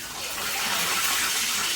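Water poured for cooking splashes in a steady, full gush, close and continuous for a couple of seconds without pause.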